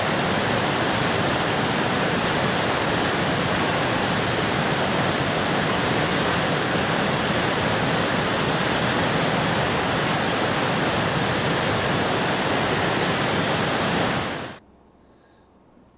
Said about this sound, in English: that's what I was dealing with at the river yesterday. It was so loud that there was no way I could shoot this down there.